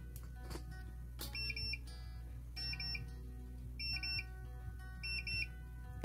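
A MioMat soy milk machine beeps when finished, short repeated bursts of high electronic tones, four groups spaced about a second apart, over a low steady hum.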